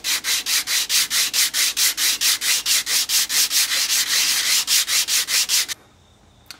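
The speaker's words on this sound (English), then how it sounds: "Just using my bandsaw table to clean up the back of the bridge and make sure it's nice and flat." Rosewood acoustic guitar bridge rubbed flat against sandpaper on a bandsaw table: about twenty steady, rhythmic back-and-forth sanding strokes, loud and close, stopping abruptly near the end.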